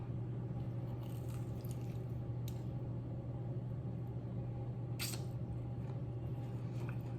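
Crab claws and shrimp rolls dipped in vinaigrette are bitten and chewed close to the mic at a mukbang meal, with a few crisp crunchy bites over a steady low hum.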